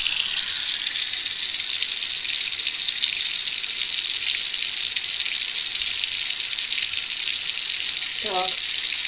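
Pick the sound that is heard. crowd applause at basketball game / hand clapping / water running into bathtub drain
water running into bathtub drain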